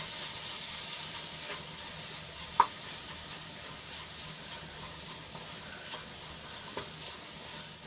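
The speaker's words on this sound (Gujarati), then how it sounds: "હવે બધું મસાલા અને ગોળ સરસ રીતે મિક્સ કરી લઈશું" Spices and jaggery are stirred into ivy gourd curry in a pan, giving a soft, continuous sizzle with faint scraping and one sharp utensil clink.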